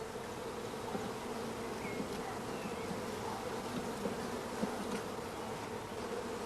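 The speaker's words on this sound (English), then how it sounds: "All bees of each frame are brushed into a funnel over the swarm collecting box." A swarm of honeybees gives a dense, continuous buzz as bees are brushed off hive frames into a funnel over a swarm collecting box. The buzz is faint and even, with no talking.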